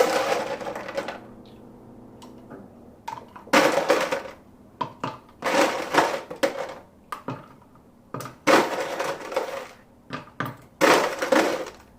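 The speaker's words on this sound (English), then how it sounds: "Get your ice cubes." Several sharp bursts of ice cubes clattering and cracking as they drop into a glass for an iced dirty chai, coming in irregular clusters with quiet gaps between, close and fairly loud.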